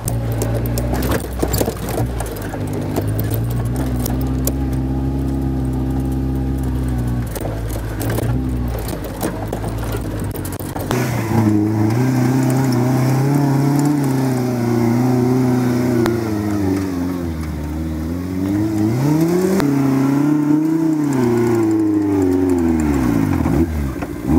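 A car sets off for off-road field trials, its engine revving and changing pitch as it accelerates, loud and close, with rising and falling tones through the second half.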